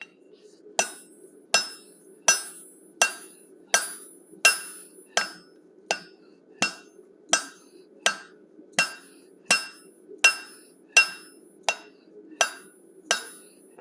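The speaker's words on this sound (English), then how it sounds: "First step of the process is to forge a 3-sided taper, tapered on the top and the sides and flat on the bottom." A hammer forges a three-sided taper on 1-inch square steel stock, striking about sixteen sharp, ringing blows at a steady, unhurried rhythm, each hit loud and close over a faint low hum.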